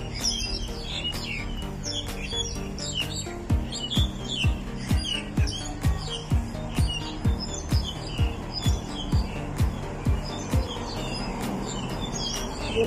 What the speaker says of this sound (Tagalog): Ayan na ang ibon. Ingay-ingay mo.